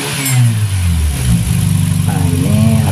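A Toyota Starlet car engine is revved up from idle and then revved again, loud and close. The mid-pitched engine note climbs, settles into a rough idle, then rises once more.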